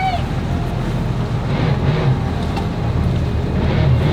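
A steady low motorboat engine rumble with water and wind noise at the Big Chute Marine Railway, holding even throughout and swelling slightly as the boat approaches.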